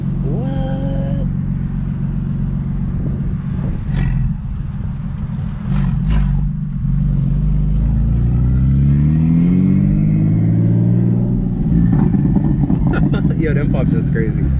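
A heavily modified 800 hp big-turbo BMW 335i drifting, its engine rumbling loud and close with rising and falling revs, sharp exhaust pops near the end, and people talking over it throughout.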